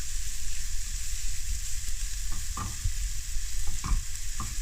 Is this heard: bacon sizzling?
yes